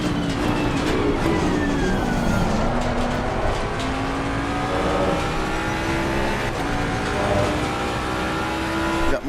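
A race car engine in Assetto Corsa Competizione at Bathurst drones loud and close throughout, its pitch climbing and dropping through gear changes, with a faint whine layered over the roar.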